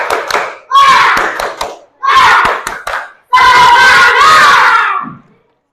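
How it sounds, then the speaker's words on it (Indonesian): A primary school class performs a rhythmic spirit clap in bursts of quick patterned claps mixed with shouted chanting, three loud phrases separated by short pauses, close and energetic. "kita tepuk semangat dulu"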